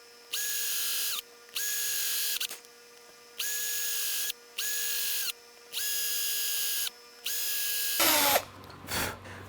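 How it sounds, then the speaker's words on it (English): Power drill boring tuner holes in a Fender bass guitar headstock, six short whirring bursts with pauses between them, each spinning up and down, followed by a clatter of handling at the end. "now we've drilled the holes"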